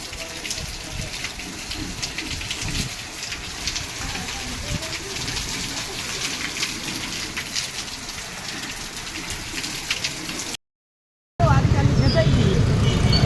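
Heavy rain pours down in a Gujarati village during a wind-driven downpour, a dense, loud, steady hiss and patter on surfaces that fills the whole stretch apart from a brief cut near the end.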